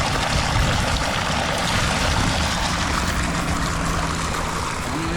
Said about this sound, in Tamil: என்ன போல்ஸாக வருது தண்ணி.